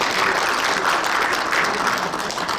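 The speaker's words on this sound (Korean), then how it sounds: "지금 미리 오시고 계시니까 박수 한번 해주십시오." An audience claps steadily and fairly loudly throughout at a representatives' meeting of regional Christian councils in Korea, a dense, even wash of hands with no break.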